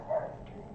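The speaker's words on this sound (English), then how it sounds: "What are you barking at, Odin?" A dog named Odin barks once, faint and somewhat distant, in a quiet indoor room with no talk over it.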